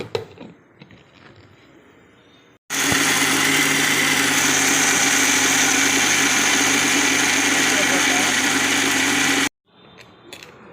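A mixer grinder grinds roasted sambar powder spices in a mixie jar, a loud, steady motor roar that starts abruptly, runs for about seven seconds and cuts off sharply, with quieter room noise before and after.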